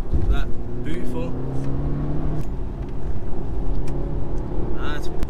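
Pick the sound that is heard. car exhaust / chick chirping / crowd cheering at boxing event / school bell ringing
car exhaust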